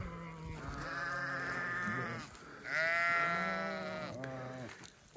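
Sheep and lambs bleating at close range on a farm in spring, several drawn-out wavering calls overlapping in quick succession, loud and clear with no talk.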